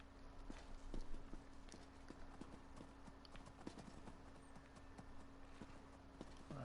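Hooves of a steed running in the Elder Scrolls Online fantasy game, a quick and even clip-clop that stays steady and faint throughout.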